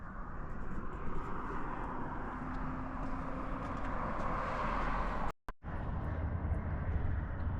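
A 2025 Acura Integra Type S with a 2.0-liter turbocharged inline-4 runs with a broad, steady engine roar. The sound cuts out sharply for a moment near the end, then resumes.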